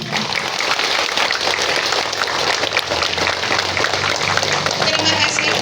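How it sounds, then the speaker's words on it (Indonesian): Applause at a school assembly: a dense, steady wash of many hands clapping at once, loud and sustained throughout without pause. "Tepuk tangan dulu."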